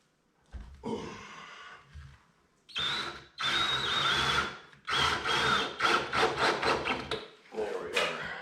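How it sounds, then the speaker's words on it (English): A power drill drives into wood in several separate bursts, each a close whining grind of a few seconds, separated by short pauses and ending in a series of quick, choppy pulses. "Other drill."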